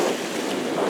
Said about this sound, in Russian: Сегодня немножко волны, потому что ветер, да, из-за ветра.